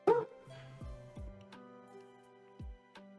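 A dog barks and yips several times in short bursts at a fox outside, fairly close, with brief whimpering tones between the calls.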